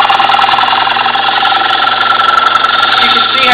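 Wood lathe spinning a green oak bowl as a gouge rides the bevel toward the center, producing a steady, loud, close hissing whir of the cut without a break.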